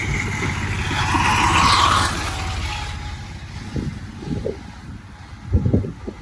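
A road vehicle rushes past during a motorbike trip between Jashore and Kuakata, its rising and fading rumble heavily mixed with gusty wind buffeting the microphone, then low engine rumbles trail off.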